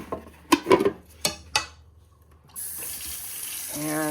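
Water from a kitchen tap runs steadily into a sink as a LavAzza Classy Plus coffee machine's water tank is rinsed, preceded by a few plastic knocks and handling clunks, close and fairly loud.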